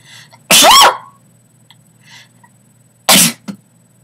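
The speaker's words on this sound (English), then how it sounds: "oh god, I need to sneeze." A single loud, close human sneeze bursts out, followed after a short quiet pause by a second sharp burst, likely another sneeze or a throat-clearing sound.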